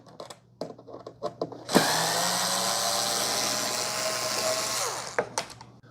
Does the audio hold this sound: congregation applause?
no